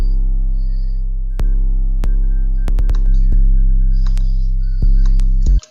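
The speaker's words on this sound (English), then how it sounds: "You're gonna start hearing the high frequencies, the high harmonics" A distorted synth patch in FL Studio rings out as a steady, loud tone with bright upper harmonics, shifting pitch in several abrupt note changes before cutting off at the end.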